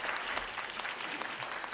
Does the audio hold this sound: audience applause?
yes